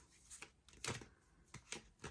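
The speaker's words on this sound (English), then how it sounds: "I'm going to do 2 more shuffles." Tarot cards being shuffled by hand, giving soft, close riffling and slapping bursts in short irregular clusters against a quiet background.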